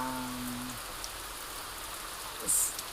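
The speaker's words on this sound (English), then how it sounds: "It's raining a lot." Heavy rain falls steadily in an outdoor spot beside Lake Malawi, a dense even hiss filling the scene, with a brief low tone early on and a short brighter splash or burst near the end.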